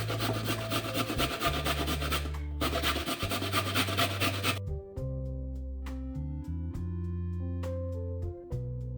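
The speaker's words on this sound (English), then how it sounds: "I finished grating the carrots and this is what I have." Carrots being grated by hand on one side of a grater, a steady rough scraping rhythm up close that stops briefly twice, with soft music playing beneath throughout.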